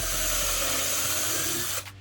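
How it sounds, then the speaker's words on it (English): Drill boring a small pilot hole into a wall stud for mounting hangers, a steady high whirring bite lasting under two seconds before cutting off, close and loud. "We drill the small pilot hole"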